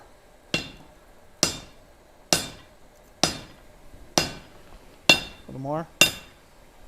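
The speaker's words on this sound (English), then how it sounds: "we're going to put this in the anvil. And you're going to hit it back your way." Hot steel being hammered on an anvil at a gas forge, seven sharp, ringing metallic strikes at a steady rhythm about a second apart, close and loud, with a brief voice between blows.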